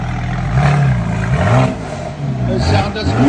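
A 2019 Mercedes GLE 43 AMG with a biturbo V6 and Meisterschaft axle-back dual exhaust revs up and down in loud, rising and falling engine swells, with people talking over the noise.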